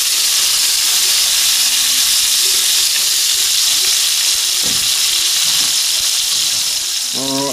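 A loud, steady sizzle of Australian fish frying in a pan, seasoned with salt and a touch of homegrown lemon, a close continuous hiss with faint bubbling throughout.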